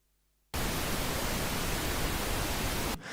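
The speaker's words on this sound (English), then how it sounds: "get a tone generator and send it to the master, which generates a pink noise tone" A tone generator sends pink noise to the master bus: a steady, broadband hiss that starts abruptly after silence, holds at an even level for about two and a half seconds, then cuts off.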